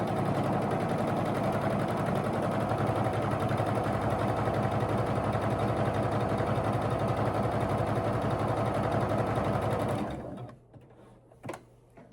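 A sewing machine runs nonstop while stitching a quilt block, a steady close mechanical whir with a fast rhythmic needle pulse that cuts off abruptly near the end, followed by a few faint clicks in near silence.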